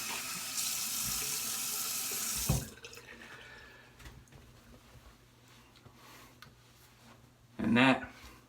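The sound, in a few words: rinsing with running tap water after a shave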